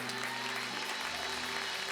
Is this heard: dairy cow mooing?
no